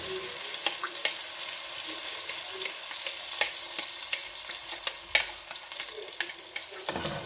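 Crushed tomatoes sautéing in a pan, a steady close sizzle with frequent small pops and spits.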